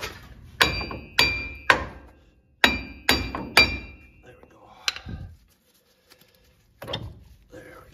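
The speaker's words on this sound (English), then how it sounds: "Still needs a little bit of hammering." Sharp metallic hammer strikes on a front wheel bearing of a 2015-2020 Ford F-150 during a brake job, about seven close, ringing blows in uneven bursts, then quieter clinks and a final tap.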